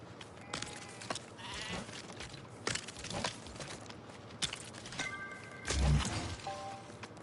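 Several short sheep bleats in a video game sound over a soft, busy background of shuffling and faint clicks, with a louder thump near the end.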